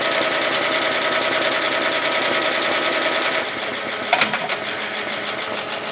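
Embroidery machine stitching lettering onto a tote bag, a steady rapid mechanical chatter that drops slightly in level partway through, then gives a brief jerking knock before carrying on. No voices.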